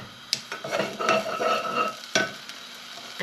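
Chicken fillets seasoned with pepper being laid into a hot frying pan with tongs, giving a steady close sizzle and fry with a couple of sharp metallic clacks from the tongs against the pan.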